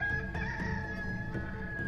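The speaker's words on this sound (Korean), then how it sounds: "닭이 곧 두 번째 울더라." A rooster crows once, loud and close, in a long sustained call that fills the whole clip with no talk over it.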